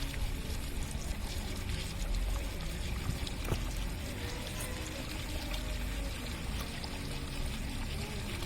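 A small waterfall pours steadily in a park in Rishon LeZion, a continuous broadband rush of falling water heard close and fairly loud throughout, with no voices.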